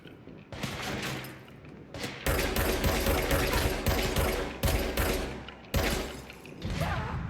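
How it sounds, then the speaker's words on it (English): Loud bursts of explosions and crackling blasts in the video game Control, repeated heavy booms with sharp onsets over several seconds, no talk. "Bro, what is exploding?"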